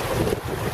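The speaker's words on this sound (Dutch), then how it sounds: "Kijk dat ze even door de golven heen denderen." Drifter 22 sailboats plough through waves at sea, giving a brief loud rush of wind and churning water.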